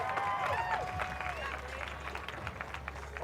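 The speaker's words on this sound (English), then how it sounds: "big round of applause" A crowd at a strength competition record-breaking anvil grip event applauds and cheers amid lively voices and chatter, the clapping fading somewhat toward the end.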